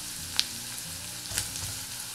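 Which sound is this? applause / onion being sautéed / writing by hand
onion being sautéed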